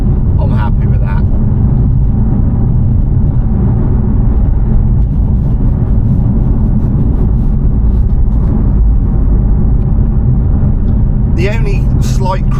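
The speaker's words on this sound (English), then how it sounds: "There is a bit of road noise, there's no denying that" Steady, loud road noise fills the cabin of a BMW F82 M4 Competition on the move, a constant low rumble and tyre roar with brief clicks near the end.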